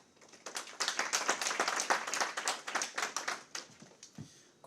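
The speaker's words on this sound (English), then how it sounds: "give a round of applause to those who have put together this event" A modest audience claps at a census results handover event, the individual hand claps distinct and uneven, swelling quickly, holding for a few seconds, then thinning out to scattered claps near the end.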